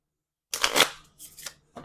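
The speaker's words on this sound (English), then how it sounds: "Just give them a quick shuffle to mix them up." A small deck of game cards gets a quick shuffle on a tabletop, a brief close flurry of riffling and sliding followed by two shorter soft shuffles, with silence before.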